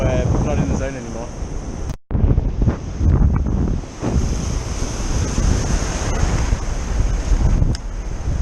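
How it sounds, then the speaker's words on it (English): Ocean waves crash and surge continuously on a remote Pacific atoll shore in Tokelau, loud and close with strong wind buffeting the microphone, a brief cut near the start and shouting voices over the surf. "These waves are super sketchy right now."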